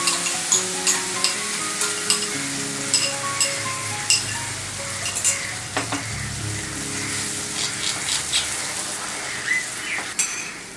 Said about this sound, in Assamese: এতিয়া আমি বিলাহী, কাজু আৰু পিঁয়াজৰ পেষ্টখিনি ভাজিম।